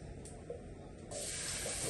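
Ginger garlic paste hits a hot pan for black pepper cream chicken, giving a brief, soft, steady hiss that grows a little louder near the end.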